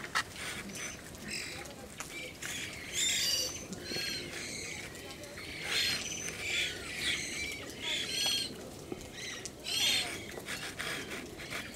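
Fat, fluffy birds in an aviary in the snow trill and squawk around food thrown on the ground. The racket comes in repeated bright bursts of chirps and harsh calls, rising and falling over a low background.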